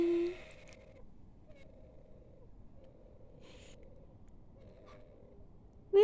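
A young cockatoo makes soft, nasal baby calls. They come as a few faint, drawn-out notes separated by quiet gaps, close by, with a sharper chirp at the very start and end.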